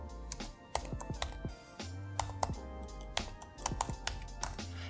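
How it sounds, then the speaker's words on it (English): Fingers type a network SSID and password on a computer keyboard, producing rapid, irregular clicks and key taps that come close and clear, with no speech. "So I'm gonna type in the SSID of the network I want to start monitoring,"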